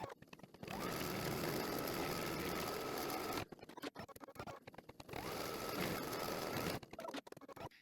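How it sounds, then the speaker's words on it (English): An embroidery machine sews a placement stitch for batting on a daisy towel topper, a steady close mechanical whir that runs for a few seconds, pauses briefly with light clicks, then runs again before stopping. "I'm ready to run my first stitch, which is going to be my placement stitch for my batting."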